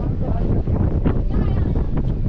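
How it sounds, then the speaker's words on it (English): Strong wind buffets the microphone at the top of a tall tower, a steady loud rumbling roar with gusty swells throughout and no pause. "It's windy now as well."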